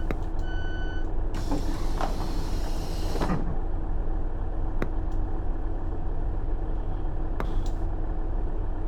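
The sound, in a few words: Class 150 train doors opening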